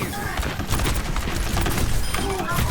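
Dense, continuous gunfire and ability effects from an Overwatch match on the Blizzard World map fill the mix, loud and layered, with players talking over the din.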